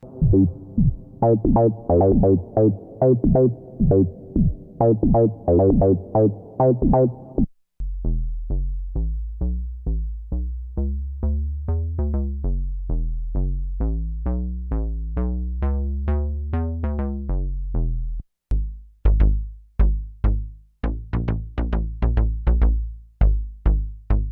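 Three bass lines on a Novation Peak synthesizer play in turn, each a repeating pattern of punchy, buzzy low notes, loud and alone, separated by short pauses.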